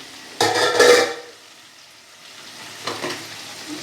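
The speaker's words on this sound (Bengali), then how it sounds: "এবার সব কিছু একসঙ্গে নেড়ে চেড়ে" Vegetable fried rice stirred in a hot pan, two bursts of sizzling and scraping about two seconds apart, with a quieter frying hiss between them.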